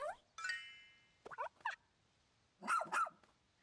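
A rescue dog in the Pikmin 4 demo gives a few short, bright barks in quick bursts, with a lone yelp early on and a pair of close, loud barks near the end.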